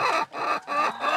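Free range layer hens cluck in three close, loud, drawn-out calls with brief gaps between them.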